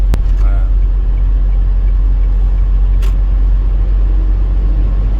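A 2023 Kia Bongo 3 truck engine drones steadily and loudly throughout as it drives in sixth gear, a constant low rumble with a brief click near the start.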